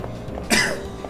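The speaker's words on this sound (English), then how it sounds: "I mean, besides cough, cough," A single short harsh cough bursts out over a quiet background hum, close and fairly loud, with no talk around it.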